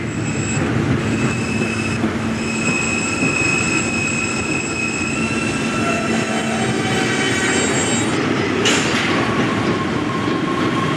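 A subway E train rumbles steadily close by, arriving at a station, with wheels squealing in long, high metallic tones that rise and fade over the roar.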